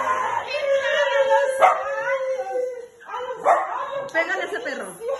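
Dog barking and yipping in short bursts, close by and fairly loud, mixed in with excited overlapping talk from several people at a lively family visit.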